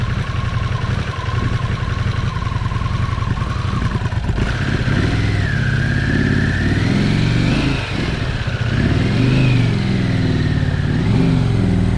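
A Harley-Davidson Pan America motorcycle at a water crossing holds a loud, close engine note, with the revs rising and wavering through the middle and end and a brief dip near eight seconds; nobody speaks.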